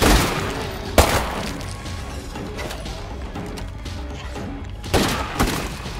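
Video game gunfire in a solo zombie-survival run: a sharp shot near the start, then a dense rumbling background of action noise, and a further cluster of cracking shots toward the end.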